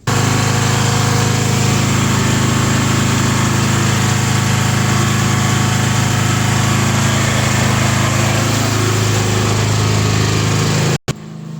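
An emergency generator engine for a boiler house runs loud and steady with a constant low drone, then cuts off sharply near the end.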